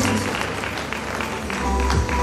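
Audience applause at a stage show featuring a magician, a dense continuous wash of clapping that stays steady and loud throughout, with a low rumble and faint voices mixed in.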